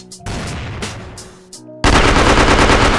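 Rapid bursts of automatic gunfire in a shooter video game, a short rattling volley, a brief pause, then a louder sustained stream of shots close up.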